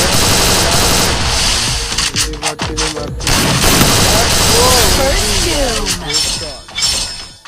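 Gunfire from a Free Fire 1v1 custom match, with rapid bursts and sharp single shots crackling through the first few seconds, then a loud gameplay mix continuing under steady talk.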